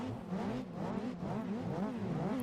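A car engine in the Gran Turismo 4 racing game hums at a steady drive, its pitch swaying up and down in a wavering whine as the car moves through long turns.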